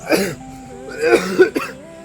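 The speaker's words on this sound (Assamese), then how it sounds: "পুৱাৰ পৰা কাহিয়ে আছো" A person coughs near the mic, one short cough and then a pair of harsh coughs about a second later, sharp and loud in a quiet room.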